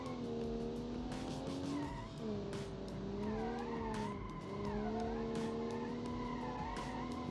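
Inline six car replicating the Ford Barra 270T in the Automation driving game, engine droning and rising through the revs while tires squeal and slide continuously, loud and up close with no voices.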